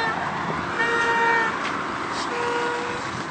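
A car horn toots briefly out in road traffic, a couple of short tonal honks riding over steady broadband street noise, moderately distant.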